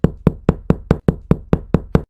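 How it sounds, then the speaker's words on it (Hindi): Loud knocking on a door, about ten evenly spaced heavy raps in a steady insistent rhythm, close and alone with no voices. "इतनी तेज तेज दरवाजा कौन खटखटा रहा है?"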